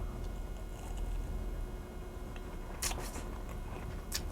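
A bite into a crunchy Sicilian arancino, a fried rice ball, gives a couple of sharp close crackles near the end, set against steady low background noise with no talk.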